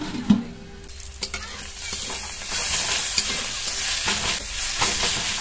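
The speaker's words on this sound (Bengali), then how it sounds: "শাকটা ভাজা হয়ে গেছে, শাকের থেকে কিন্তু তেল ছেড়ে দিয়েছে" Leafy greens fry in oil with onion, garlic and green chilli, making a close steady sizzle with a few knocks and scrapes from stirring and no speech.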